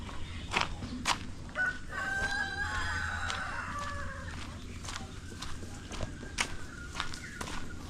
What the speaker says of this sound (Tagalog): Daming manok na nakawala kasi yung mga maliliit pa lumusot